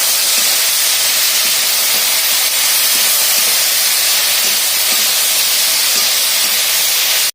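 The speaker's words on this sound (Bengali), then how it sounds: "সব ভাজা হয়ে গেছে এখন চচ্চড়ির জন্য আনাজটাকে ছোঁয়াচ্ছি" Vegetables for a chorchori dropped into a hot pan with oil, a loud continuous hissing sizzle that stays steady and close throughout, with no voices.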